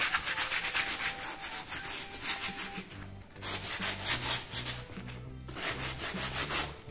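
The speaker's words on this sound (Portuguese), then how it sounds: "Enquanto aqui, a gente já dá para dar uma lixada." Sandpaper rubbed by hand over a cement tribal mask vase, steady rhythmic scraping strokes close up and fairly loud, with a short pause midway and no speech.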